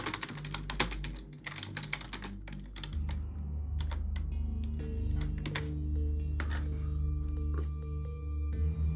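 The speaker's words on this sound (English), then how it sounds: "Yo, typing noises." Rapid, steady clatter of computer keyboard typing close by, keys tapping continuously over a low background hum with no talking.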